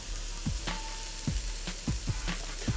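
Carrots and cabbage sizzle in a hot pan with a pinch of salt for vegetable spring roll filling, giving a steady frying hiss broken by several sharp stirring scrapes and clicks.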